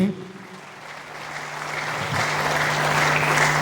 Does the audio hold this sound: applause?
yes